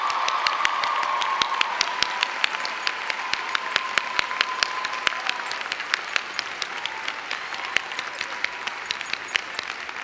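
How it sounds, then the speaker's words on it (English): Applause from the audience at a university commencement ceremony, honoring new officers; steady clapping from a large crowd with sharp individual claps standing out, sustained for about ten seconds without talk. "One last round of applause for our new officers."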